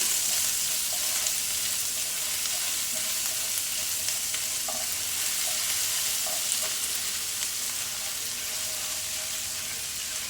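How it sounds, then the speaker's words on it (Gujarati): Ginger and chilli sauté in a pan over a medium gas flame for a khasta kachori filling, making a dense, even hiss that holds steady and close for the whole stretch, with faint clicks and no talking. "મીડિયમ ગેસ ઉપર એને સોતે કરવાનું છે"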